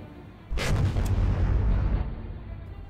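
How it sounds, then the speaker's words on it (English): Warship secondary guns fire star shells during a naval battle in the War on the Sea video game, with one loud, close blast at once giving way to a heavy rolling rumble that fades slowly. "Secondaries will fire star shells."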